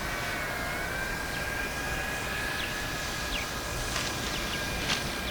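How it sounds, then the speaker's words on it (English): An E-Flite Carbon Z Cessna 150T RC plane comes in for a grass landing, its electric motor whining in a steady, fairly close drone that shifts pitch slightly, with faint rustling and ticks outdoors. "I'm going to bring this plane in. I'm going to land it."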